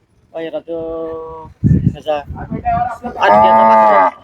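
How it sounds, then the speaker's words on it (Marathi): Cattle low loudly several times, long drawn-out moos with short pauses between, close by at a bullock fair ground, with people talking nearby. "आता वासर आणले ते दोन बैल आणलाय"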